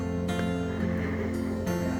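Television audio playing at home, in the background of a room where furniture is being painted. It is a steady, muffled mix of broadcast sound that continues without a break.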